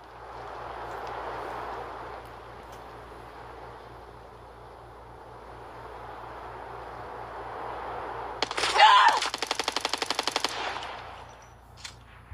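Automatic gunfire rattles out in a long, rapid burst during a video game match, loud against a steady hum of background noise, with a single faint shot near the end.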